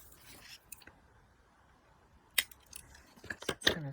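Scissors trimming the paper of a pop-up card, a few quiet snips early on and a faster cluster of crisp cuts near the end, close and faint.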